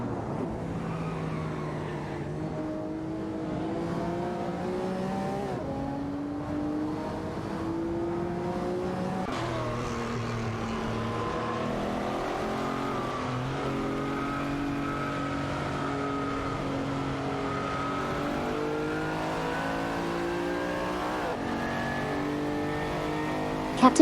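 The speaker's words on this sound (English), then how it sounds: "these three cars battle for position on the track" Race cars battle for position on a track, with engines whining through rising and falling gear shifts, overlapping pitches from several cars revving close together in a continuous, steady roar.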